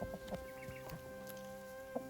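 A crossbreed rooster with Araucana blood clucks softly in short, faint bursts outdoors, under a steady low background hum.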